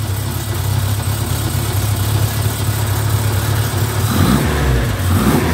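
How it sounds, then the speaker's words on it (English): A 1967 Triumph TR4A engine running steadily just after start-up, a loud, close, continuous four-cylinder idle with a slight rise in revs near the end, no talk. "A lovely, sweet sounding little motor there."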